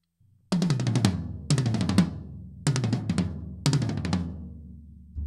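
A drum kit plays four quick bursts of single-stroke-seven fills built from sixteenth-note triplets, each a fast flurry of close, loud strokes with a short pause between bursts.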